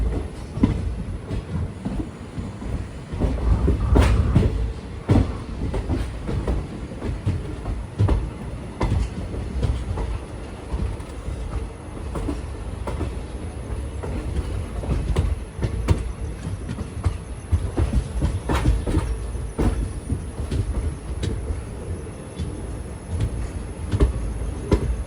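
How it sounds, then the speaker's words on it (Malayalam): Rajya Rani Express pulling into Nilambur Road railway station, a steady loud rumble of rolling coaches with rhythmic wheel clatter over rail joints and occasional squeals, continuous throughout with no talking. "ട്രെയിൻ ഇപ്പോൾ നിലമ്പൂരിലേക്ക് ഇതാ എത്തുകയാണ്."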